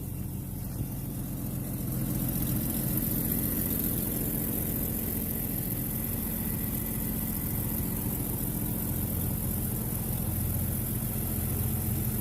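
A used six-cylinder engine swapped into a Jeep YJ idles steadily at a low, even rumble, fairly quiet and constant, with a faint ticking texture underneath and no talking.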